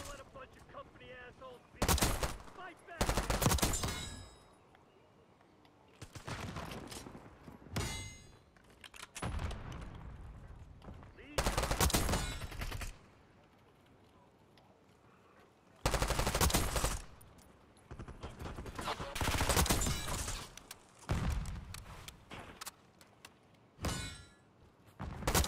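A C9 gun fires in Call of Duty: repeated loud bursts of rapid shots broken by quieter gaps, some volleys long and sustained, others short and sharp, close up throughout.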